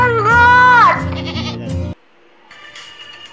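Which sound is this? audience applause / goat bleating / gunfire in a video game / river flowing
goat bleating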